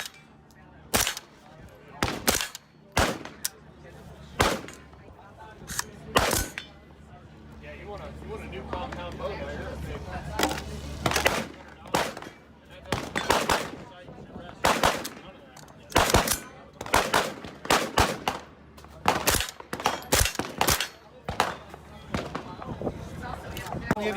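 Rifle gunfire at an outdoor shooting range during a trade-show media day, with sharp shots fired singly and in quick bursts, loud and close, and people talking between them.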